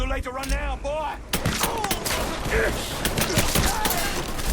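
Gunfire in Mafia 3 breaks out in a dense, loud fusillade of rapid shots and cracks that continues throughout, following a brief stretch of someone talking at the start.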